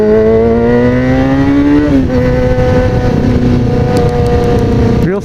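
A black Camaro speeds aggressively down a street, its engine roaring loud and close in one sustained pull, with a gear change partway through and the note carrying on unbroken.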